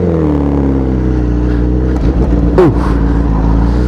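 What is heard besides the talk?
Honda CBR1000RR Fireblade 2016 motorcycle pulling away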